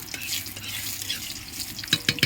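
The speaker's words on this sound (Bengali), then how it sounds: "তো সর্ষের তেল দেওয়ার পরে তেজপাতা, জিরে আর দিয়ে দিল" Bay leaf and cumin fry in mustard oil in a kadai, giving a soft steady sizzle with light stirring scrapes and a few sharper clinks near the end.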